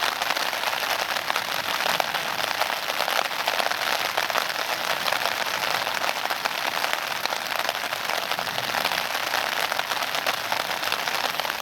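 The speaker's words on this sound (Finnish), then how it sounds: "Ihan kunnon vesisade." Steady, dense hiss of heavy rain pouring down, constant and loud throughout with no pauses or voices.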